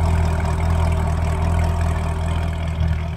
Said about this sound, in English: Boy, that exhaust sounds nice.